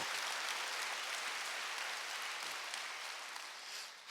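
A church congregation at a Wednesday service claps together, a dense even wash of applause heard at some distance. It holds steady for about four seconds and then fades.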